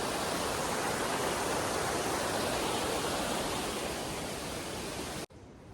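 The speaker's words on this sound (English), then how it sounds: "look at that creek down there" A creek in Monteverde, Costa Rica rushes in a dense, steady roar of flowing water, loud and unbroken for about five seconds before cutting off abruptly, with no voices.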